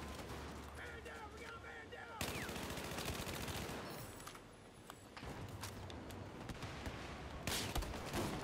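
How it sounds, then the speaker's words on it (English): Rapid bursts of gunfire in Battlefield 4 on the Metro map, dense automatic shots and heavier blasts close and loud throughout, with game action layered underneath. "I fired at him."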